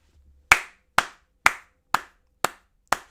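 Six sharp, isolated hand claps ring out at an even, unhurried pace, close and crisp against near silence.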